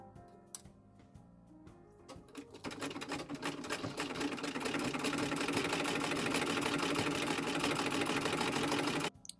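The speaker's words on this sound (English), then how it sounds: "now we're going to start by hemming the bottom of where our sleeve is going to be" A sewing machine hems the bottom edge of a 1920s dress sleeve: a few isolated clicks and short bursts at first, then a fast, steady mechanical whir of stitching that runs for several seconds and cuts off abruptly.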